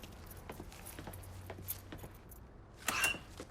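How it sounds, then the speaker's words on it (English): Keys jangle briefly as a truck key set is picked up in Mafia III, a short, faint metallic rattle near the end over quiet ambient background. "Lincoln, pick up the keys."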